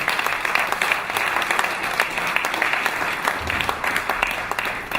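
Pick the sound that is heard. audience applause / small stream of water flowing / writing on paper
audience applause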